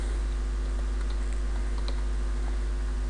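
A street name is typed on a computer keyboard, producing light, irregular clicks over a steady electrical hum, close and fairly faint, with no voice.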